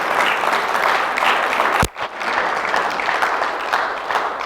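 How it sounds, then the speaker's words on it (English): An audience at an evening community advocacy event on lobbying elected officials claps loudly and densely for several seconds, briefly broken by a sharp thump, then the applause continues. "can you give yourselves and these young people a round of applause for your participation tonight?"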